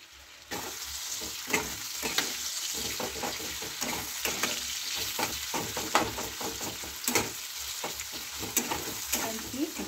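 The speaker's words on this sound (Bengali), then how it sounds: "গোল গোল পেঁয়াজ কেটেছি, আমি পেঁয়াজগুলো দিয়ে দিচ্ছি।" Sliced onions go into a hot pan and set off a sudden, steady sizzle, with scraping stirs and occasional crackles over the rest of the clip.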